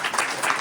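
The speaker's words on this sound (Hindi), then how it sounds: "चलो फिर अपने लिए ताली बजाओ" A class audience clapping together in a meeting hall, a dense, fairly loud patter of many hands with no voices over it.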